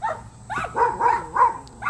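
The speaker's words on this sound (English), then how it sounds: "that's the dogs" Dogs bark in a nearby house, several loud rapid barks mixed with yips and a whine, in short bursts with brief gaps and no talking.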